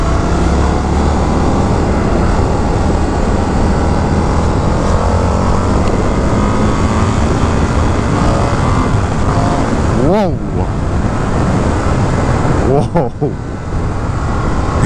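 A 2023 Indian FTR R Carbon motorcycle engine revs and accelerates hard and close, a loud continuous roar with rising pitch sweeps near the end as the rider works through gears, wind rushing over the microphone throughout.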